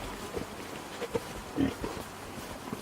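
Several short, low pig grunts scattered over a few seconds, moderately close, with a quiet background and no talking.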